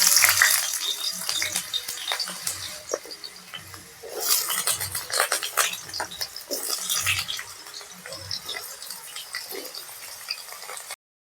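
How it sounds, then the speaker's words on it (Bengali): Potatoes fry in hot mustard oil in a karahi, a continuous sizzling hiss broken by repeated scraping and clattering of a spatula stirring against the pan, close and fairly loud, with no speech. "এবার আমি আলুগুলো ভেজে নেব"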